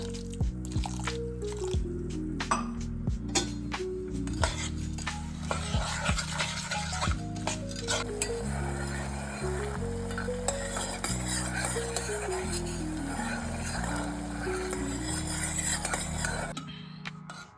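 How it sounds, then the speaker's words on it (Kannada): Jaggery syrup being prepared with half a glass of water for ragi laddu, a spoon stirring and scraping in the pot with repeated clinks and soft sloshing throughout. "ಈಗ ಬೆಲ್ಲದ ಪಾಕ ತಗೊಳ್ಳೋಣ. ಒಂದು ಅರ್ಧ ಲೋಟ ನೀರು ಮಿಕ್ಸ್ ಮಾಡ್ಕೊಳ್ಳೋಣ."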